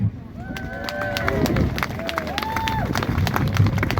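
Outdoor rally crowd greeting a speaker with applause and cheering: dense, continuous clapping and crowd noise, with a few rising whistle-like cheers or calls over the top.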